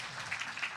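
Applause from an audience at a Christmas show put on by church clubs, a soft, steady spatter of clapping filling the brief moment at a low, distant level.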